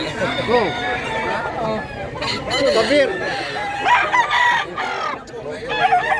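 Many roosters at a gamecock breeding farm in Mantalungon, Cebu crow and cluck repeatedly in an overlapping chorus, near and loud, while people talk over them throughout.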